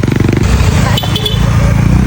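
Motorcycles travel a rough, rocky rural road, their engines loud and close with a throbbing, steady rumble throughout.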